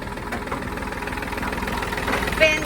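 An Iseki Sial 17 tractor with a small three-cylinder diesel engine idles steadily up close, a loud even low chugging with a faint rattle and no voices.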